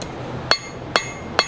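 Hot steel, forged flat for twisting, struck with a hammer on an anvil: three sharp, ringing metallic blows at an even, unhurried pace, close and loud against a low background hum.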